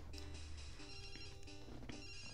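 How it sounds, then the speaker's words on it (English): A phone rings in the Pokemon Crystal video game, a repeating electronic ringtone chirping in short bursts at low volume over steady game background music. "Oh no, a phone call from Professor Elm"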